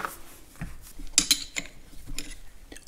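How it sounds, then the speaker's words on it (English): A wrench loosening the distributor clamp bolts on a Farmall tractor, with close metallic clicks and ratcheting taps in an irregular sequence, fairly quiet. "Loosening the distributor clamp bolts now."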